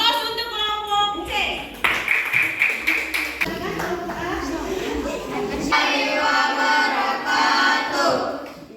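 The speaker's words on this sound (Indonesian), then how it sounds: "Aplaus untuk kelompok C." A group gives applause for a presenting team during a class session, with brief rhythmic clapping under voices, then a broad, sustained wash of many hands clapping as children talk.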